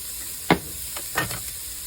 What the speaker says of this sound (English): And then you want to saute this.